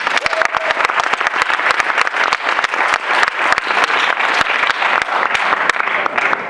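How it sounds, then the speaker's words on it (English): Audience at a keynote speech bursts into sustained applause, dense and steady clapping throughout, loud and close, filling the hall without pause. "Please give him a round of applause."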